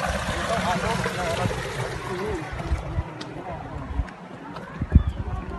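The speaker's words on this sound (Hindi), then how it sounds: "वहाँ से ना इधर कहीं से झरना बह रहा है शायद कहीं," Steady rushing water from a waterfall in the Himalayan mountains fills the scene with a broad wash of noise, while a person talks over it and brief knocks punctuate the flow.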